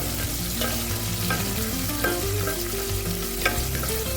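Chopped green chillies and tomato fry in oil in a pan for an okra fry, a loud, continuous sizzle with occasional stirring scrapes over a soft tonal background.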